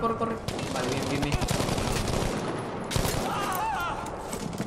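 Rapid automatic gunfire from a weapon in Battlefield V, a dense stream of loud, close shots with a brief pause near the middle and a voice talking underneath.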